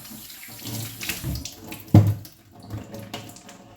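Two items washed by hand under a running tap, with water splashing and gurgling into a sink and one louder splash partway through.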